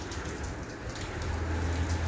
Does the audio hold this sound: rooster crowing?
no